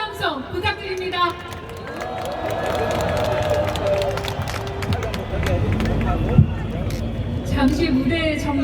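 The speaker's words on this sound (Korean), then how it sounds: "다시 한번 뜨거운 함성 부탁드립니다" A political rally crowd cheers and claps after a speech, with loud roaring voices, rhythmic chanting and clapping swelling throughout, and an amplified voice over the top.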